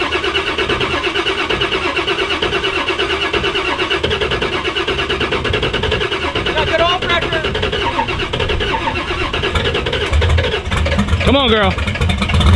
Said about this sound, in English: Are you ready to hear it crank?